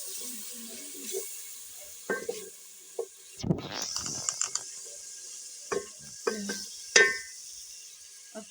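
Tomatoes and onions fry in a pot over a village fire, with a soft sizzle beneath a scattering of sharp scraping and clinking knocks from a spoon stirring, fairly quiet and close.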